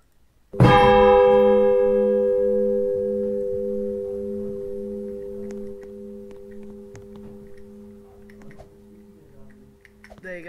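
A large church bell in the Roblox Odenthal eight-bell tower is struck once, loud and close, its deep hum ringing on and slowly decaying over several seconds, with faint clicks and a brief noise near the end.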